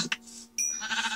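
A sheep bleats in the video game Minecraft, a short wavering call that comes after a brief burst of other game noise, heard fairly close with no talking over it.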